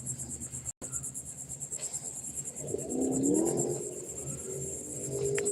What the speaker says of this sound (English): they got all those cicadas now. They're starting to really be noisy right now this year.